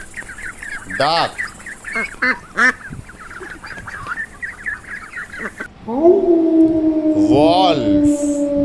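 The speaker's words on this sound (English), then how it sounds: "Duck." Several duck quacks from a farm animal sound set, rising and falling calls repeated in quick bursts, followed by a steadier sustained tone with a few more quacks layered near the end.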